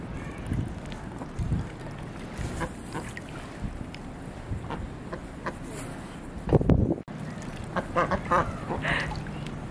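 Ducks out in the snow give scattered, moderately close quacks over light wind noise, with a louder flurry of calls and rustling partway through.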